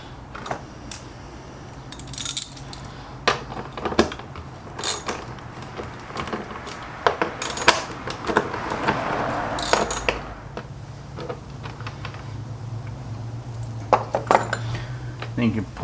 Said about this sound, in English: Next you're going to want to remove the four 8mm bolts that hold your air box on.